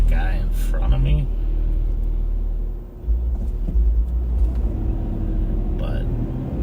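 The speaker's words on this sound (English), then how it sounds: "Somebody's got a loud radio with some serious bass" A loud car radio pumping heavy bass from a nearby vehicle on a road during a sheriff's patrol, a steady low thumping that runs through the whole clip with a brief dip midway.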